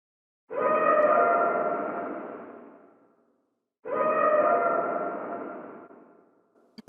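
Two bursts of a processed dragon battle roar treated with a short slapback delay, each swelling loud then trailing off with a smeared, ringing echo tail, separated by a brief silence.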